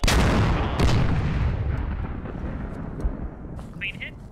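A heavy blast opens the stretch in the Squad military shooter, a shot and hit on an armored target, with a big boom and a long rumbling decay, then faint distant pops as it fades.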